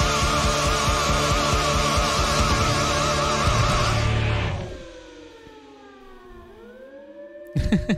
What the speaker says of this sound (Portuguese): Som de sirene